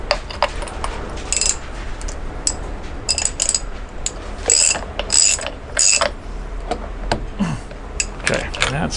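A wrench ratchets in rapid clicking bursts while tightening a left-hand-thread compensator bolt set with red Loctite on a Harley Davidson, close up, with someone talking at times.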